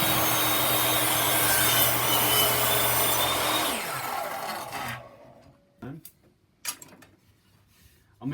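A power saw cuts about a quarter inch off the tongue of a wooden board for a bat house, a steady loud rasping buzz for about four seconds that winds down, followed by a few short knocks and handling sounds.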